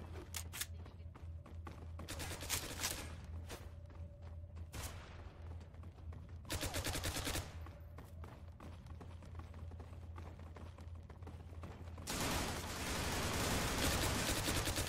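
Bursts of automatic gunfire in the online shooter Zula, set in a metro station, come in several rapid volleys, with a dense, heavy burst near the end over steady game ambience.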